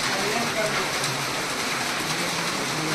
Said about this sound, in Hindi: वर्षा को देखो ना वर्षा